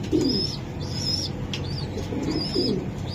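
White racer pigeons coo in low repeated murmurs close by, joined by a few brief wing flaps and faint high chirps from other birds, with no one speaking.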